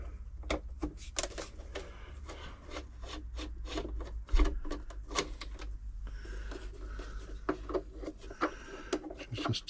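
Screws and the top cover of a Singer 6104 sewing machine being removed during servicing make a string of close, sharp clicks, scrapes and knocks in an irregular rhythm, with a heavier clunk midway.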